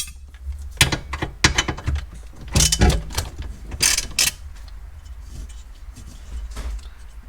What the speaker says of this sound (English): I'm gonna undo those two upper bolts holding this like a X brace in place.